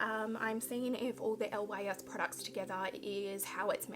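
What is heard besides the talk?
No everyday noises stand out.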